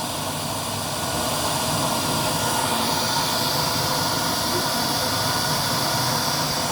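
A homemade stove burning used Montero engine oil roars at high flame, a loud, steady broadband rushing like a jet, continuous and close throughout with no talk.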